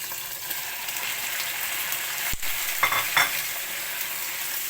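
Chicken frying with onions and golden garlic for afritada sizzles steadily while being stirred, and a couple of scraping strokes and one sharp tap against the pan sound over the constant hiss.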